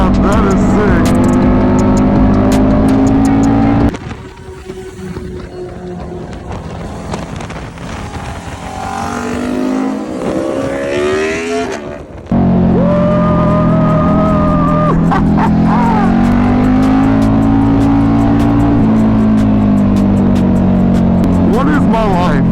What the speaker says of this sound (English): I'm out here in Los Angeles, riding a KTM RC8